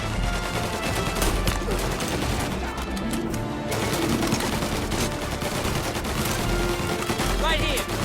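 Dense gunfire rattles on through a shootout in the video game Mafia Definitive Edition, with continuous overlapping shots and bursts loud under shouting voices.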